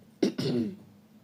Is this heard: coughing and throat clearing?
yes